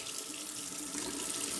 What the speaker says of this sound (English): Some cold water to rinse the alum block off, because I'm not sure what else to do.